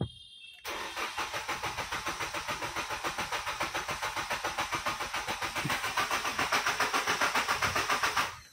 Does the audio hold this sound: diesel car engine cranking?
yes